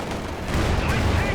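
Rapid MG42 machine-gun bursts in the World War II strategy game Company of Heroes 2, a dense rattling mix of continuous gunfire and battle noise that stays loud across the whole span.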